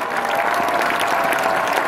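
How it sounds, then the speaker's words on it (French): A large crowd applauds steadily and loudly at Reims' celebration of Stade de Reims' title win. The clapping forms a thick, unbroken wash without pause. "Et vous pouvez vous applaudir."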